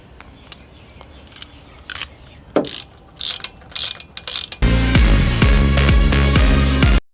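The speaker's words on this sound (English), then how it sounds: "we'll be installing these spark plugs with the help of a 16mm deep socket like this" A hand ratchet with a 16mm deep socket turns spark plugs into a Suzuki Swift engine. Several short, near bursts of clicking come first, then a loud, continuous rapid ratcheting run for a few seconds. No one speaks.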